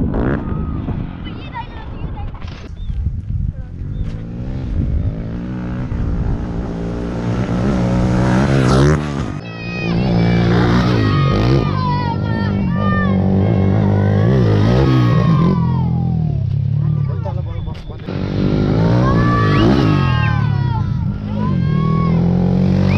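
A motorcycle revs and roars during a raw ride with wheelies on a hilly road, its engine rising and falling loudly and steadily throughout while people talk over it.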